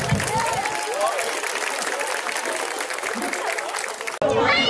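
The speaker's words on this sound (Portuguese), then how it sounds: "Uma salva de palmas pra ele, por favor." Audience applause for an adult cosplay contest entrant at a Bon Odori festival in São Bernardo do Campo, a sustained roar of clapping with voices woven through it that cuts off abruptly near the end.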